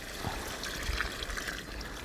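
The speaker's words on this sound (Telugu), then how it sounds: "ఒక గ్లాసు వాటర్ వేసుకుంటున్నాం" A glass of water is poured into a pot of chicken curry, giving a continuous close trickling and splashing pour that lasts about two seconds with no talking.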